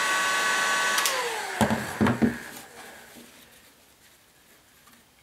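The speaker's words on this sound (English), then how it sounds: "the patterns do remove that easily with the heat gun" A heat gun blows a steady hot-air roar while softening a paper scroll-saw pattern for removal from wood. It fades after a few seconds and is broken by brief scraping and peeling sounds.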